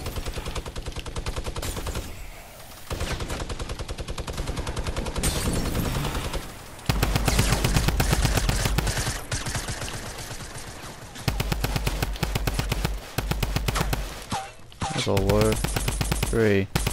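A drum gun fires in Fortnite's 50v50 mode, long rapid automatic bursts broken by brief pauses, loud and close over game ambience.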